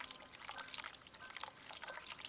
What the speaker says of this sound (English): I can hear the water running, I must hurry